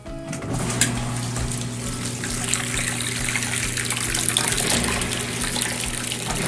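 Water drains from a laundry hose into a pan while doing laundry on a homestead, a loud, continuous gushing and splashing stream close by for the whole stretch.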